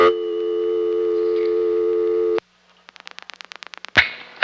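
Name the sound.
telephone line tone after dialing 0 on Annapolis exchange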